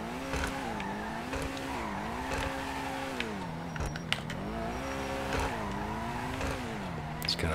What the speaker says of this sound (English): Messing around with it burns out really easily,